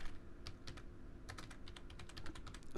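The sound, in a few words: typing on a computer keyboard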